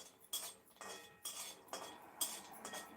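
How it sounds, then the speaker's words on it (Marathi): Cashews and almonds are stirred in a pan while roasting, making a faint series of scraping and clinking strokes from a metal spoon against the pan in an uneven rhythm. "काजू काजू आणि बदाम थोडेसं लालसर होईपर्यंत मी असं परतून घेणार आहे"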